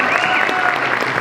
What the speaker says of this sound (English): Round of applause for Auntie.